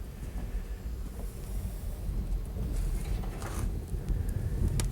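Wind gusting steadily outdoors during a December snowstorm, a broad continuous rush that swells slightly toward the end, with no voices.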